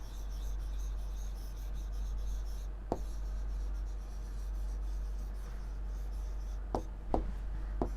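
A pen scratching across paper as a final answer is written out, a soft continuous scribble over a steady low hum, broken by a few sharper taps of the pen, close and quiet.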